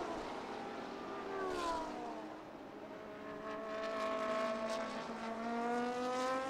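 GT race cars on a track in an Asian round blur past in a pack. Several engines whine and rise and fall in pitch as they overlap, moderately distant and steady.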